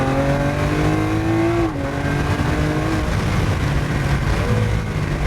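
A 2016 Lamborghini Aventador Roadster's engine revving loud and near, pitch climbing then dropping at a gear change and settling into a sustained throaty drone.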